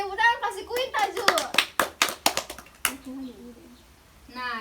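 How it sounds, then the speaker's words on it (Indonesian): A classroom of children breaks into a brief burst of rhythmic hand clapping for a classmate, a dozen or so sharp claps in a loose beat, with a teacher's voice talking before and after. "Kasih tepuk tangan, kasih Quinta Ju."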